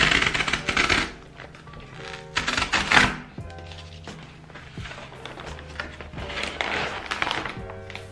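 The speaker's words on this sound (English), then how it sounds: "so I'm gonna open them now." A package of stickers being opened by hand, with a series of close, crisp plastic crinkles and rustles coming in bursts, separated by softer handling and small taps.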